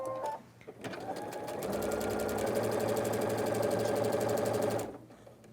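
A sewing machine runs a steady quarter-inch seam along strips of quilt fabric, one continuous close whirring burst of about four seconds with quiet before and after.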